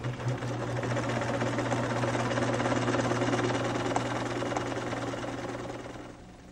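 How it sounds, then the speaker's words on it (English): A sewing machine runs in one steady, even burst stitching a 1/4 inch seam along quilt fabric strips, its rapid mechanical whir close and continuous before winding down near the end. "I evenly feed them through the machine, doing my accurate 1/4 inch seam down the length of the fabric."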